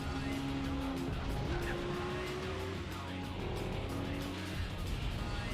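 Racing cars including a Mazda RX-7 in the video game Gran Turismo 4, a continuous droning engine whine with shifting pitch that fills the scene at moderate loudness, with a voice talking faintly underneath.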